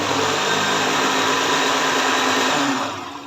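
A kitchen blender whirs steadily while churning cream (malai) with a little water for homemade ghee, a loud continuous motor drone that holds level and then begins to wind down at the end.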